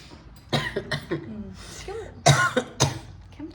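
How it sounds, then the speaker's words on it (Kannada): A woman coughs: several short, harsh coughs come in uneven bursts close by, mixed with throat-clearing noises. "ಕೆಮ್ತಾರೆ"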